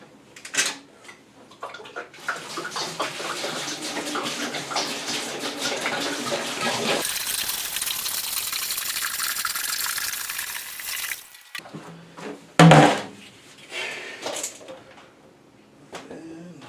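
Water pours steadily into a Robobrew all-in-one brewing system, a loud continuous rush lasting several seconds before cutting off, followed by a few sharp clanks and quieter handling noises.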